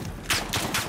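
Enemy gunfire in a Call of Duty: Modern Warfare match, three sharp muffled bursts in quick succession, moderately loud with no talk over them.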